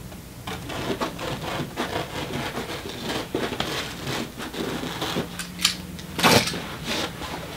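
A hand tool making side cuts in timber skirting, heard as a steady run of close, dry rasping and scraping strokes with a few sharper scrapes near the end.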